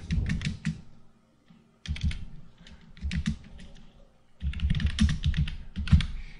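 Bursts of typing on a computer keyboard while entering load combination values in SAP2000 structural engineering software, quick clustered keystrokes separated by short pauses, close and clear with no talking.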